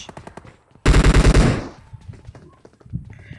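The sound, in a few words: gunfire in PUBG Mobile video game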